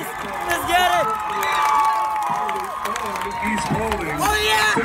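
A high school football crowd at North Paulding versus East Paulding cheers and yells, many overlapping voices rising and falling in a busy stadium roar, with nearby people talking excitedly over it.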